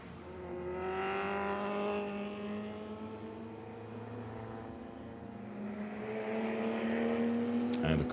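A DTM race car at the Nürburgring during a sprint race, its engine note rising and falling through the gears as it drives past, loud and fairly close, with a sharp burst near the end.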